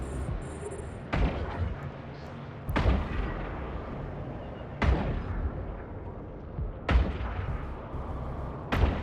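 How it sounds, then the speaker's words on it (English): Ship weapons firing in EVE Online space combat, five sharp heavy booms spaced a couple of seconds apart, each decaying into a rumbling tail over a low ambient drone. "We're gonna start shooting at that guy."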